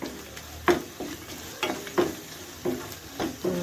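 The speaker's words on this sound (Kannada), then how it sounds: "1 ಟೇಬಲ್ ಸ್ಪೂನ್ ಶುಂಠಿ ಬೆಳ್ಳುಳ್ಳಿ ಪೇಸ್ಟ್ ಆ್ಯಡ್ ಮಾಡ್ಕೊಳ್ಳಿ. ಇದನ್ನು 1-2 ಮಿನಿಟ್ಸ್ ಫ್ರೈ ಮಾಡೋಣ." Ginger garlic paste sizzles in a pan for a baby corn gravy. A spoon scrapes and stirs it in steady strokes about every second, set against a constant frying hiss.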